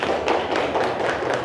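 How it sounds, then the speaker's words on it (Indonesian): Classroom applause for a student group: a steady patter of many hands clapping together in a room, with the rhythm swelling in soft waves and continuing without pause. "Kita kasih tepuk tangan untuk kelompok 1."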